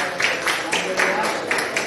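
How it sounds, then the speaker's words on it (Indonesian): An audience at a school teachers' gathering claps together in a steady, moderately close round of applause with rhythmic clapping pulses, and a voice speaks briefly under it. "Kita tepuk tangan dulu."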